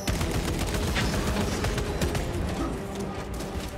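Rapid gunfire in the Warhammer 40,000 Space Marine 2 video game played on Xbox Series X, dense loud bursts of shots rattling continuously over a roaring battle din.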